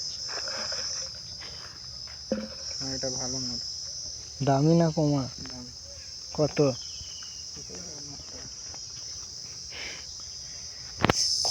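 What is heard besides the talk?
crickets chirping in the daytime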